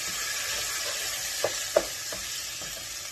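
Rice sizzles steadily in onion oil with a chicken stock cube, a constant close frying hiss broken by a few small pops and crackles.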